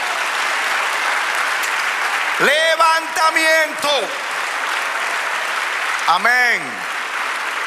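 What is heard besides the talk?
church congregation applauding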